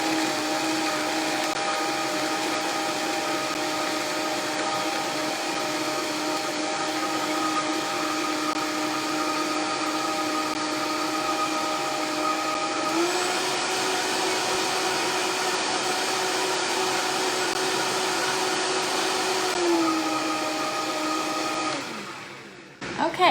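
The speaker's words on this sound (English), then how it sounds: "Now we're just gonna pop this on and we're gonna blend it up." Vitamix blender blending a pumpkin pecan smoothie, a loud, continuous high-pitched motor whir that shifts pitch a couple of times as the speed changes, running alone for about twenty seconds before winding down and stopping.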